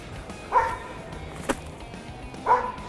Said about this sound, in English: A barking crow.